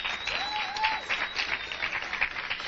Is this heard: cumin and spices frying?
no